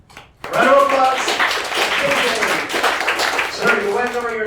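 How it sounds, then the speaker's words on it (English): An audience bursts into clapping after a blockchain presentation, a sudden onset that holds steady and fairly loud for several seconds, with voices speaking over the applause. "Round of applause."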